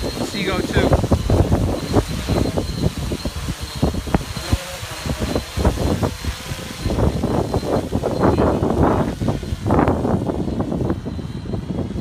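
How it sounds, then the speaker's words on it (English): A light wind buffets the microphone outdoors during a Blade Chroma drone flight, a constant rough rumble under a person talking throughout. "So we got a slight wind"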